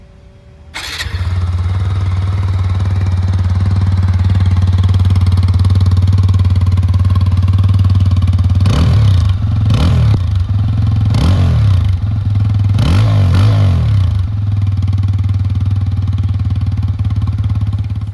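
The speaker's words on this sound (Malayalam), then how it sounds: "അപ്പോൾ നമുക്ക് എന്നാൽ എഞ്ചിൻ സൗണ്ട് കേട്ടോ നോക്കാം." A TVS Apache RTR 180 motorcycle starts up and settles into a steady, loud idle close by, then revs sharply several times in short bursts before dropping back to idle.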